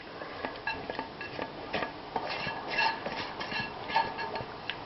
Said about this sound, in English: Let's scrape out the contents of this pan.